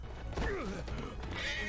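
A horse whinnies in a Vinland Saga anime scene, a wavering neigh rising and falling over a steady background of score and ambience, with faint clip-clop hooves alongside.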